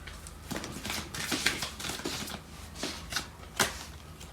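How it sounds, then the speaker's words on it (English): Tarot cards being shuffled and handled by hand, a series of crisp riffling bursts and soft slaps at an uneven rhythm, close and moderately loud with no talking. "I'm going to pull out some cards from the other deck"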